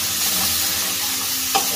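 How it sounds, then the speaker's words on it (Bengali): Spice paste for a rohu fish kalia is stirred in a pan, a soft continuous sizzle with low scraping and one brief knock near the end, no voices. "আর একটু মশলাটা কষিয়ে নিচ্ছি"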